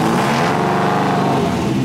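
A cross car's engine revs loudly and close up, a brief rising and falling mechanical roar with no speech over it.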